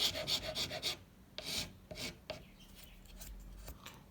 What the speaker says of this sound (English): I'm filing very lightly